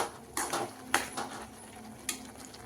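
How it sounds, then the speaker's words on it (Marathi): Lentils (dal) are sautéed in melted jaggery in a pan. A faint, steady sizzle runs under a few sharp metal clinks and scrapes from a spoon against the pot. "मी इथे डाळ परतते गुळामध्ये"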